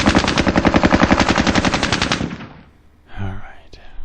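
A Bren light machine gun fires in a war video game as a loud, rapid, steady burst of shots for about two seconds, then fades. A faint voice and a few quieter sounds follow.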